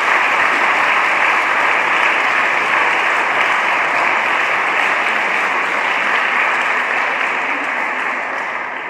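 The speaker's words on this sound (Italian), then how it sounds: "Allora un applauso" An audience at an evening education talk claps in sustained, dense applause at a steady, loud level, tapering slightly toward the end.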